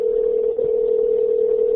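A telephone dial tone hums steadily and loudly, one unbroken tone with a brief dip near the middle, cut off abruptly at the end.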